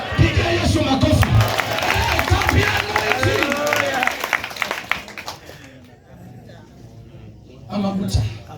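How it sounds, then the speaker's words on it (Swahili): A church congregation at a Swahili-language worship service claps for Jesus, with dense, energetic clapping mixed with shouts and cheering that fades after several seconds before a single voice rises again. "Pigia Yesu makofi."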